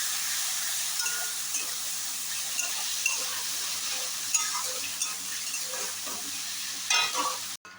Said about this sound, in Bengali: এবার আমি কাটা পেঁয়াজটা দিয়ে দেবো।